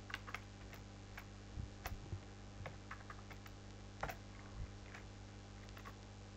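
Soft, scattered key clicks from typing on a computer keyboard at a desk, coming in small irregular bursts over a low steady hum.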